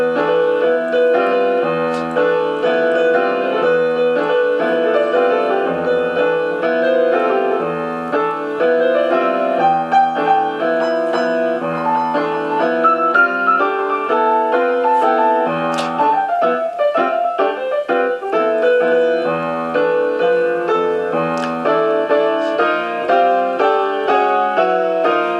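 Jazz piano playing dark, dire semitones in the Phrygian mode, with repeated low plunking notes and restless rhythmic phrasing, loud and solo without talk.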